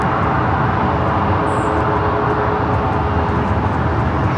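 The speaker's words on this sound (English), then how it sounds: "That was the 737 MAX 8 heading to SFL flight 3938." A Boeing 737 MAX 8 airliner passes at LAX, its steady, loud broadband jet roar filling the scene without letup and with no talk.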